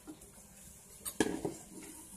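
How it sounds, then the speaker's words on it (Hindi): Boiled corn tipped into melted butter in a pan, a short clatter of kernels and metal against the pan with a brief clink, fairly faint and without talk. "अब मैं इसमें डाल रही हूँ कॉर्न, जो कि मैंने पहले से ही उबाल के रखे हुए थे।"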